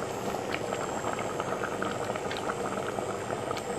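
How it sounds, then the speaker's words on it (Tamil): A pot of hotel-style vegetable sambar with lentils boils hard, and the thick liquid makes a steady, close bubbling and churning throughout with no voices. "இப்போ பருப்பு சேர்த்து நல்லா கொதி வருது"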